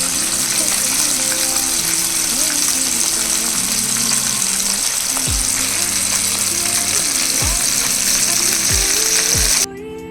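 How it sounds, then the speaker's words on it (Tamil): Marinated chicken pieces for KFC-style popcorn chicken deep fry in hot oil with a loud, continuous bubbling sizzle, occasional stirring scrapes, and a sudden drop in volume at the very end. "இதில் நான் சிக்கன் பீசஸை ஆட் பண்ணி ஃப்ரை பண்ணுறேன்."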